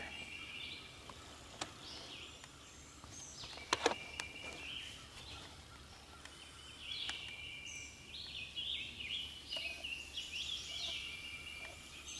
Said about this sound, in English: see a gobbler over here.